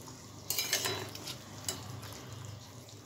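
Chicken and vegetable gravy being stirred as cornflour is added, a few soft spoon scrapes and clinks against the pot over a low bubbling simmer, quiet and close.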